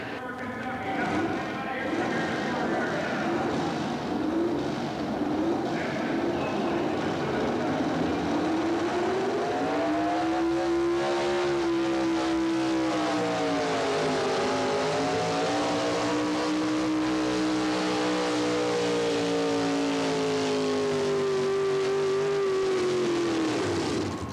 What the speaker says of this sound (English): Beautiful truck, late model Chevy.